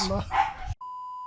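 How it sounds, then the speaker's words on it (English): Several dogs bark and whimper in a home, short yelps and whines close by, followed by a steady electronic beep tone. "The dogs are freaking..."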